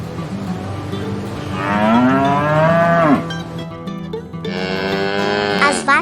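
A bull bellows loudly and close, two long drawn-out moos with a rising then falling tone, separated by a short pause.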